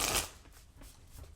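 A deck of cards being shuffled up close, with a loud riffle burst at the start followed by softer repeated shuffling rustles.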